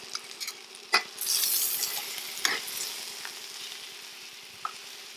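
Feather onions sizzle and crackle in a hot cast iron pan for Asian chicken, with a sharp clatter as they drop in and steady stirring scrapes over the close, continuous frying hiss.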